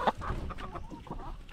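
A chicken clucks close by in a few short, quick bursts over a noisy outdoor background, with no talking.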